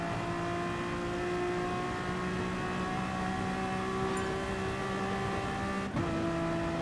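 A Honda NSX race car in GT Sport at Interlagos drones at steady high revs, a constant engine tone holding pitch, then a quick gear shift drops the note before it settles again, heard alone.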